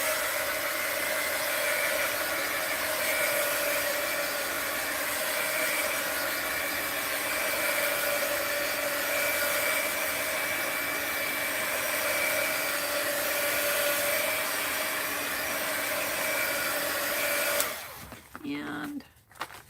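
A hair dryer blows steady, loud hot air over a mixed media art journal page, a continuous whir that runs unbroken before cutting off near the end, followed by a few faint handling noises.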